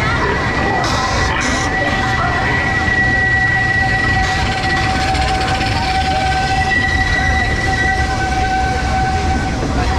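Walt Disney World Railroad steam train at Magic Kingdom rolling along its track, a loud steady rumble with a sustained whistle tone, crowd noise and children's voices mixed in.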